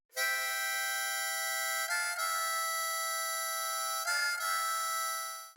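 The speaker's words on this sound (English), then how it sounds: "I'm just using my Suzuki harmonica." A Suzuki harmonica plays bright sustained chords, holding each breath for about two seconds with brief shifts between notes, clear and alone at moderate volume.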